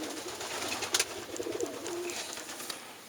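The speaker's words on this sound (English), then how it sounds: "It's classic, classic racing pigeon" A Sion racing pigeon sitting on a nest of wooden eggs gives a soft, low coo, faint and close, against quiet background hiss with a brief rustle.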